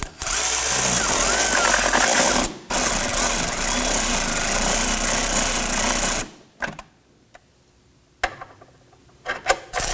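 Loud, close power drill whirring through a long run with a short break, tightening fender liner fasteners on a 2018-2024 Toyota Camry, then stopping, followed by a few faint clicks and knocks.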